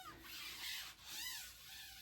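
Close, steady hand rubbing on a screen printing screen, a soft swishing friction sound that swells and fades in a few slow back-and-forth strokes.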